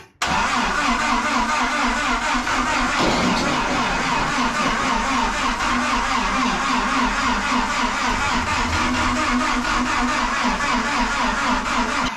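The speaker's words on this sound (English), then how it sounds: "Oh, that poor little starter." A 1953 Willys CJ3B Jeep engine cranks on its starter without firing, a loud, steady rhythmic churning that runs close up for about twelve seconds, with no voices.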